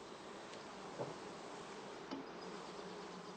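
Honey bees buzz in a soft continuous hum around a heather skep hive, with a few louder individual bees passing near, faint and alone.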